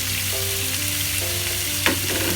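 Ground pork fries in a pan with garlic and onion for sotanghon (Filipino glass noodles), a steady loud sizzle running throughout with a brief scrape of stirring near the end.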